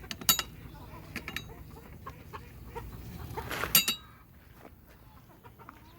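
Chickens cluck at a petting zoo amid faint rustling and handling noises, with a few sharp calls near the start and middle.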